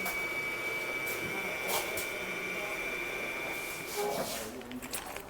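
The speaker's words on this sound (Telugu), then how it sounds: "ఇది ఇలా ప్రెస్ చేస్తే మనకు మిషన్ స్మూత్గా రన్ అవుతుంది." An Usha Janome Allure Deluxe home sewing machine runs smoothly while its foot pedal is pressed, giving a steady whirring hum under a voice.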